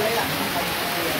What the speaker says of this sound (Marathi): बाहेर बघा भाई खतरनाक वाला पाऊस पडतोय एकदम सुसाट्याचा.